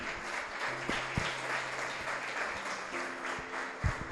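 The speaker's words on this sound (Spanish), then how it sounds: "Dale un aplauso al Señor, amén." A church audience applauds the Lord after a sermon, a steady fairly quiet spread of clapping with sustained organ or keyboard tones underneath.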